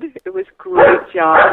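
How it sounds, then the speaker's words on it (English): A dog barks at workmen next door, sounding a few loud, close barks and yips during a home interview, while someone speaks over and between them. "Oh, excuse my dog."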